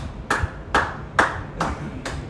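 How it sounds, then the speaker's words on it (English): Slow applause of four or five separate, evenly spaced hand claps, fairly close and alone, with no talking over them. "That was a slow round of applause."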